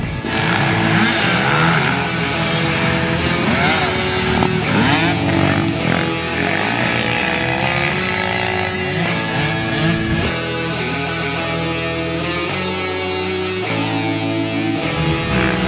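A pit bike circles a dirt track, its small engine buzzing and revving continuously and loudly throughout, rising and falling as the rider works the throttle, with no talking over it.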